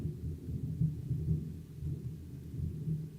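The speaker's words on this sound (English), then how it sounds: "Do you hear that? Thunder, baby." Low thunder rumbles continuously from a distance, a faint, deep roll that swells and fades slightly without any sharp crack.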